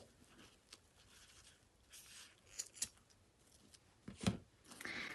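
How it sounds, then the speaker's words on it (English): Scissors snip through two layers of cushion-cover fabric at once, a few soft, quiet crisp cuts with light rustling between them and no talk. "cut through both at the same time"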